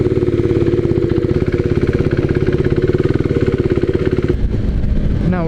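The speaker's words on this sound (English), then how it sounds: "Let's get on the bike and get this started." A motorcycle engine idles with a steady, throbbing rhythm close by, then the sound changes abruptly near the end as the engine note shifts.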